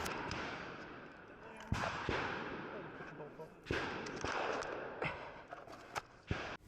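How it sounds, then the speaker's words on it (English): Rifle shots ring out at a 2-gun shooting competition on an outdoor range: sharp, loud cracks, several in quick pairs, spread over a steady background rumble. "I was able to get 2 quick shots right off"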